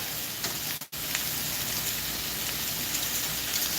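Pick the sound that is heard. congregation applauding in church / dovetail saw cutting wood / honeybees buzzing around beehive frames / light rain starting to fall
light rain starting to fall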